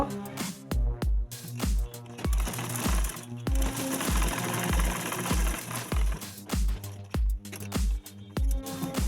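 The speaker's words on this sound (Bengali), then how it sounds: "এবার বডির যে সেলাইটা সেটা করে নিব" Sewing machine stitching the body seam of a dress: bursts of rapid, loud mechanical clatter, each lasting under a second with short pauses between, and one longer continuous run in the middle.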